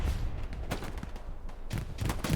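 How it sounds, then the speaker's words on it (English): Grenade explosions and gunfire in the video game Hell Let Loose during a competitive match in Hürtgen Forest: several sharp, booming bursts with deep low rumble, spaced irregularly and fairly loud. "grenades are being thrown galore"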